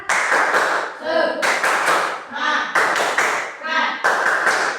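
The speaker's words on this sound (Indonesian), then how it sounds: "kita tepuk semangat ya. Coba tepuk semangat" A class of children performs a rhythmic clapping routine in a school lesson, bursts of unison claps in repeated patterned groups alternating with brief chanted voices, loud and close throughout.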